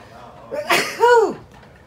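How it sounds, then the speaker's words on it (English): A single sharp, close sneeze with a quick inhaled build-up and a voiced, falling burst. "I think I'm gonna sneeze."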